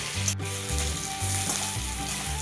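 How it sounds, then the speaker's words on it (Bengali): Potatoes fry in hot oil seasoned with five-spice and dried chillies, a loud, continuous sizzle running throughout with a low hum underneath and brief stirring sounds. "সব আলুগুলো দেওয়ার পর ভালো করে লাল লাল করে ভেজে নেবে।"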